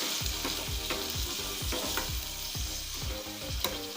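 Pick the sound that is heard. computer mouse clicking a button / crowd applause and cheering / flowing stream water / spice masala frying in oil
spice masala frying in oil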